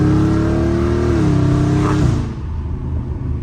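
A car engine in the Forza racing game revs hard and loud, holding a high droning pitch that steps down as it shifts during a drift, then fades into lower rumbling.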